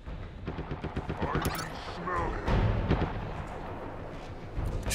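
Halo Infinite battle gunfire, rapid shots and heavier booming blasts mixed into a busy, loud soundscape, with voices talking over the fighting.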